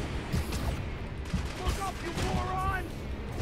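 Gunfire in a Spider-Man video game: sharp bursts of shots and clattering mechanical effects mixed with game sounds, loud and close in a short busy stretch.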